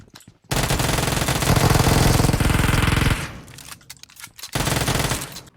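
Automatic gunfire in the PUBG video game on the Erangel map: a loud, rapid, continuous burst lasting about three seconds, a short pause, then another sustained burst, with no talk over it.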